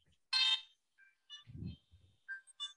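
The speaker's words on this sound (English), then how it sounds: "That's your ringtone. When you call me, that's what it does." Chiptune Super Nintendo game music plays as a smartphone ringtone, a brief sequence of bright electronic beeps and tones with gaps between them, heard near and alone.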